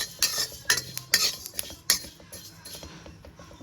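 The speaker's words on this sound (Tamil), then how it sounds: "இப்போ இதே மாதிரி சோம்பையும் வறுத்து எடுக்கணும்." Fennel seeds being dry-roasted in a pan for Chettinad masala, heard as a run of sharp, close metallic scrapes and clinks of a spoon stirring against the pan, spaced irregularly and fading toward the end, with no voices.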